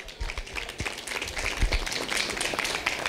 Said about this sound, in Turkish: alkışlarımız Tuğba Ekinci için geliyor